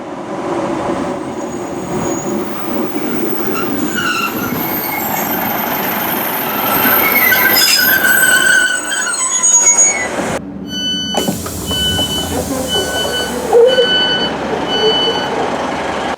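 Train pulling into a station on the East Kilbride line, a steady broadband rumble of wheels and motors with squeals and warning tones, then a sudden shift as doors or the carriage open near the end, with some voices faintly mixed in.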